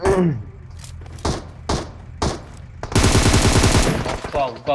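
Gunfire in the PUBG Mobile shooter game: four sharp single shots spaced apart, then a rapid automatic burst lasting over a second, loud and close, with a brief voice at the start.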